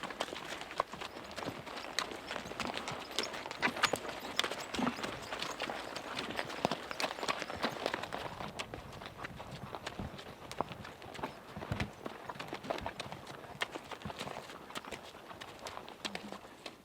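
Horses walk along a trail ride on the Heart Six Ranch in the Teton Mountains near Jackson Hole, Wyoming, their hooves clip-clopping in a steady, fairly quiet rhythm close by.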